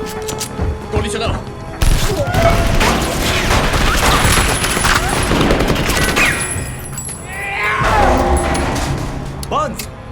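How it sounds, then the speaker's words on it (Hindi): Gunfire from an action scene in the film Terminator Salvation crackles in rapid bursts with thumps and mechanical clatter, mixed with voices and scene sounds throughout. "गोली चलाओ।"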